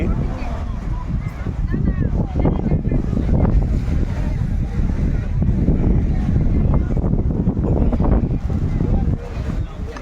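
Steady roar of strong ocean waves churning at Dhanushkodi beach under gusty wind buffeting the microphone, with a voice talking over it.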